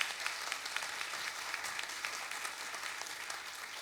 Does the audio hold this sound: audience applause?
yes